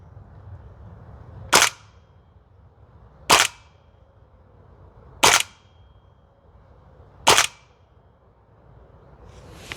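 A Toxicant XM5 Sig Spear airsoft gas blowback rifle fires four sharp, evenly spaced single shots on an outdoor range, with short gaps of quiet between them and a faint start of a fifth at the end.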